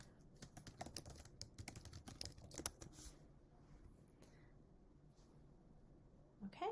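Quick, irregular clatter of keys as a chat message is typed on a computer keyboard during an online class, close and fairly quiet for about three seconds before falling to near silence, with a brief soft sound at the end.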